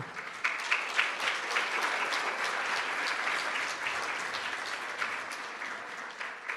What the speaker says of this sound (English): you can certainly give her a round of applause before she comes up, but Laura Dickerson.